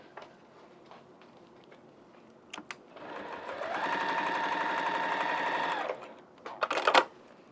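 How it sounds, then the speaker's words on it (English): A sewing machine stitches down a fabric dog waste pouch in one steady, close whirring run of about three seconds, with scattered clicks and handling noises before and after. "Let's sew this down."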